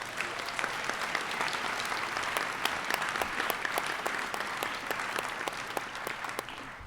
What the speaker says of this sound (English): Could we please have one more round of applause?